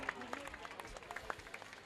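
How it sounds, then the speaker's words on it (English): Applause and crowd cheering for a woman batter who has just retired on 20 runs in a women's cricket final, short bursts of clapping heard at a distance under a commentator's voice. "Huge round of applause for Neha, guys."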